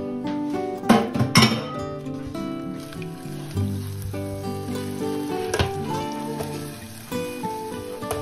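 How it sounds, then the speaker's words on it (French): A 20-gram piece of butter hits hot caramel off the heat for a tarte tatin, giving a crackling sizzle with a few sharp clatters of pan or utensil near the start, close and moderately loud. "je peux ajouter mon morceau de beurre, les 20 grammes"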